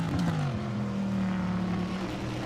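A helicopter hovers above the Silverstone endurance motor race in 2021, giving a steady, close droning engine hum with a slowly bending pitch and no voices.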